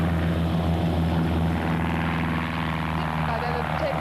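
A Hawk jet accelerates down the runway on its takeoff run, a loud steady engine roar with a persistent low hum, while people talk over it.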